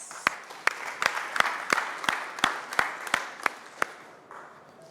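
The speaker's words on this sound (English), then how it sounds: "A round of applause." An audience at a startup workshop applauds as the next presenters are introduced: a steady wash of crowd clapping with a few sharp, close individual claps punctuating it, easing off near the end.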